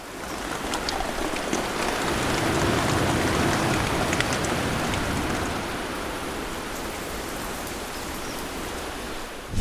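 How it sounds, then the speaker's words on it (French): A heavy rain shower pours down outdoors at a garden building site, a dense, steady roar of rain that swells slightly and then eases, continuous and fairly loud throughout. "Et attendre que cette belle averse se termine enfin."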